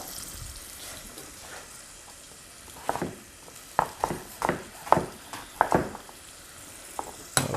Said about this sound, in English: Just gently sweat those for a moment on a medium sort of heat.